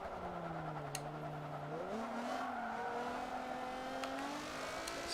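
Lamborghini Countach race cars battling in the Forza 7 racing game, a continuous engine whine climbing through gears with brief tire squeals, even and moderately quiet without speech.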